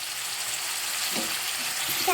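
Bone-in chicken pieces roasting with salt in a hot pan, giving a steady broadband sizzle with a light stir near the end.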